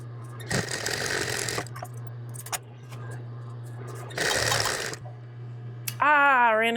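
A sewing machine stitches a narrow hem down the side of an apron, running in two bursts over a steady motor hum, with short pauses between. A voice speaks briefly at the end.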